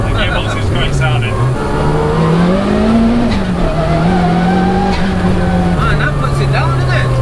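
A 340bhp turbocharged Peugeot 106 revs hard, its engine and gearbox producing a loud, close, rally-car snarl with a rising and falling whine as the revs shift, continuous throughout.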